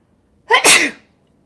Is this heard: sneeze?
yes